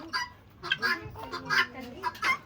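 Repeated throaty gobbling calls from a turkey, several short bursts in quick succession, fairly close.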